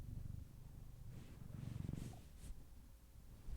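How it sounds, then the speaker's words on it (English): A cat purrs softly close to a microphone, a faint, steady low rumble with rhythmic pulses and a brief snort, no talking. "Can you hear her purring?"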